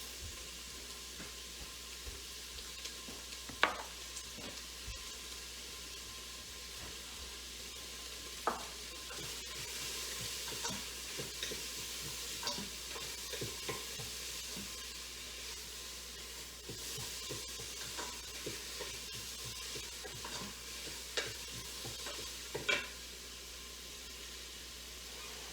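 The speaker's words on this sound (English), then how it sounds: "my tablespoon of mushroom spice with the onions while they're cooking." Onions cooking in a pan with a tablespoon of mushroom spice give a steady, soft sizzle and hiss. Scattered stirring scrapes and clicks sit on top of it, and no one talks.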